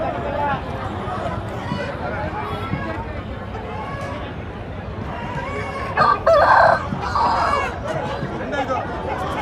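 Native village chickens crowd a busy rural market, with a rooster's crow and scattered clucking rising over a constant murmur of people talking and bargaining nearby.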